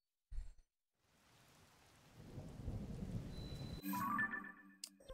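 Thunder rumbles in a video game storm, starting with a short low thump, then a sustained rolling roar that builds to a louder crack near the end, with rain hiss throughout.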